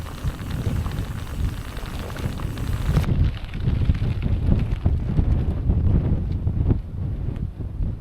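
Strong wind gusting across the microphone on an open Scottish trail during a bikepacking ride, a loud continuous rumbling buffet with no voices.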